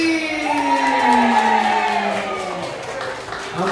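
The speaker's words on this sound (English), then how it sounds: "how about a round of applause for" Audience applause with scattered whoops at a live music night at a bowls club, while a voice talks over it with a sustained tone and the clapping fades slightly toward the end.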